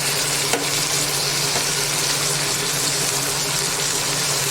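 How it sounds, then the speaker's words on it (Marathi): Flat val papdi beans sizzle steadily in hot oil in a pan, a loud, continuous broadband frying hiss that holds evenly throughout with a faint clink near the start. "आता मी भाजी घालून घेते बघा"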